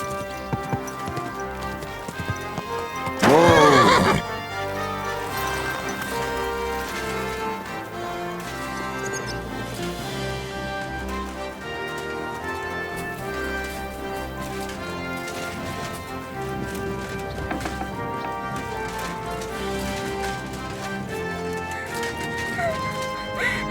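Horse hooves clop with an occasional snort from a mount in Kingdom Come Deliverance 2, mixed under continuous orchestral game music and a loud burst of effects early on.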